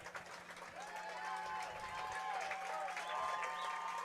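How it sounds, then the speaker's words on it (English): A crowd at a softball exhibition fundraiser against police and fire departments, applauding and cheering steadily in a continuous wash of clapping, with scattered voices over it. "Getting a good reception from the crowd"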